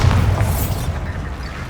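A Bombarda blasting spell explosion in the video game Hogwarts Legacy, one loud close boom with a deep rumbling body that fades out over a second or so.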